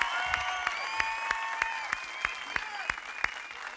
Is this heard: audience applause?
yes